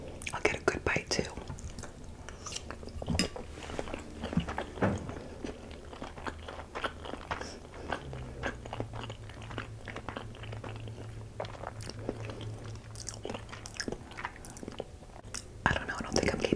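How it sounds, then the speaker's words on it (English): Close, crisp crunching and chewing of Christmas-themed pasta, with repeated bites and wet mastication in an intimate ASMR setting; a low hum joins partway, and brief whispered speech is present. "I'm gonna chew it as long as I possibly can"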